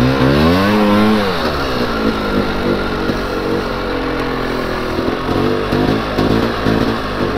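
A Polaris Scrambler 400 ATV engine revs loudly and close on gravel, its pitch swooping up and down in repeated throttle blips over a constant rough drone.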